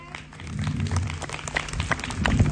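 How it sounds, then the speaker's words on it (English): An audience at a Daan Utsav donation ceremony claps for an honoured couple, a steady wash of many hands lasting the whole stretch and swelling slightly toward the end, with a faint murmur of voices underneath. "Please give them a big rounds of applause"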